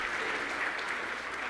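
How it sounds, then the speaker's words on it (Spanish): An audience at a macroeconomics conference applauds a speaker, steady, fairly even clapping from a room full of people, brief and continuous with no voices on top. "Por favor, un aplauso para él"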